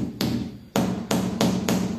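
A homemade rubber-faced mallet made from PVC pipe strikes ceramic tile five times, each a close, firm thud in an uneven rhythm.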